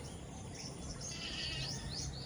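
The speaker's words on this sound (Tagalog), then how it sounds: "Yung kambing natin." Goat bleating on a farm in the early morning, faint and somewhat distant, with bird chirps in the background and no talk.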